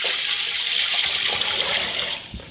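Water pours steadily from a vessel into a pot of dried black beans for soup, a continuous close splashing stream lasting about two seconds before tapering off, with no talking.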